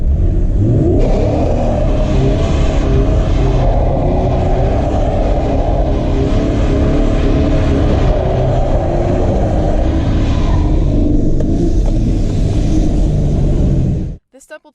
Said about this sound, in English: Quickly push the accelerator to raise the RPMs and drop the clutch.